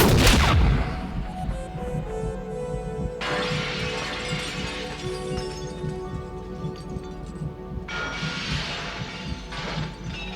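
Gunfire in the 1982 film Blade Runner, a loud opening blast followed by crashing, shattering glass and rumbling impacts, with sudden bright bursts of debris recurring across the scene.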